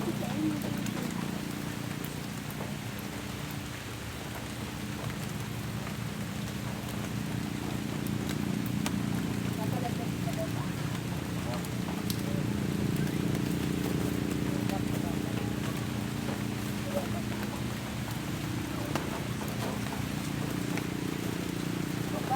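Steady rain patters on a surface throughout, a constant wash of sound under occasional speech nearby.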